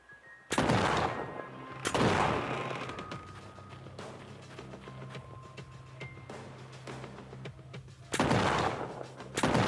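Pistol gunfire in a pirate ship first-person shooter game: three loud, close bursts of rapid shots, each ringing out into a lingering rumble of game ambience between them.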